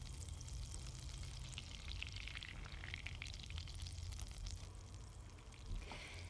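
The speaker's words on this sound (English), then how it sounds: "First, melt some butter over a low flame." Butter melts in a pan over a low flame, a soft steady sizzle and faint crackle close by, quiet throughout with no talking.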